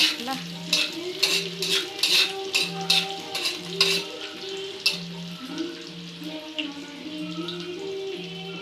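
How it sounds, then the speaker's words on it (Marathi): Onion and curry leaves fry in a pan with a soft sizzle, while a spoon scrapes and stirs rhythmically against the metal, clinking repeatedly up close before settling into quieter frying. "आता आपला कांदा भाजतो आहे."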